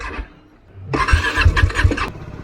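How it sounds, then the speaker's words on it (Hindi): A motorcycle engine cranks and catches on a freezing winter morning after repeated self-start attempts, turning over with a few loud rhythmic chugs before cutting off abruptly, close up and with no talking. "बार बार ट्राई किया, बार बार सेल्फ मारा, तब जाके बाइक अभी स्टार्ट हुई है।"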